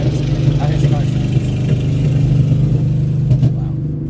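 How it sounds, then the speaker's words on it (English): A car engine runs outside a closed car window, a steady low rumble and whir that holds at moderate loudness for a few seconds with faint background noise. "my window is up, and that's how his car sounds"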